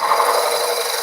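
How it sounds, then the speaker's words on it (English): A drill bit bores into wood held in a running lathe, giving a steady, loud, close rasping grind that holds unbroken throughout with no voices. "I can keep drilling."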